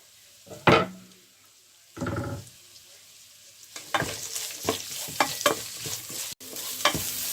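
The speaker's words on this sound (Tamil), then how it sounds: "வெட்டி வச்சிருந்த வெங்காயம், பச்சை மிளகாய், கருவேப்பிலை இவ்வளோ எல்லாத்தையும் சேர்த்து இப்போ வதக்கி கொள்ளுறேன்" Onion, green chilli and curry leaves sauté in hot oil for a fried aubergine curry, with sharp bursts of sizzling, scraping stirs and a hiss that builds into steady crackling.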